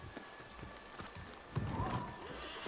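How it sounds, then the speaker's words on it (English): A summoned horse in the video game New World, its hooves clip-clopping in a quick, steady rhythm at moderate volume, growing a little louder partway through, with soft game ambience underneath. "I will summon my horse, Shunmado."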